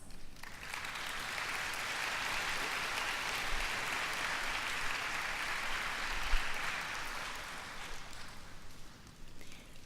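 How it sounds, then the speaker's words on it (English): Graduation ceremony audience at a high school applauding for families and faculty, a broad, distant wash of clapping from a large crowd in a big space, steady and fairly soft, easing slightly near the end. "give your family, friends, and Bearcat faculty a round of applause"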